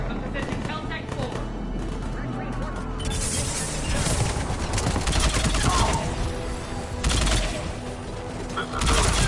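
Sustained gunfire in a Mass Effect 3 battle, dense bursts of shots crackling over a loud, busy soundscape with brief voice fragments.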